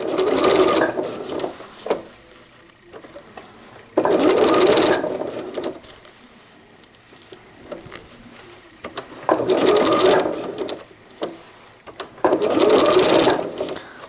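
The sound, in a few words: sewing machine stitching cotton diaper fabric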